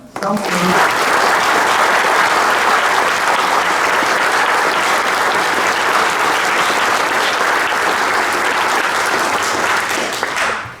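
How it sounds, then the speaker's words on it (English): A large audience at a Whittier College State of the College event applauds the trustees, a loud, dense, sustained wash of clapping that holds steady for about ten seconds before tapering at the end. "Can we applaud them?"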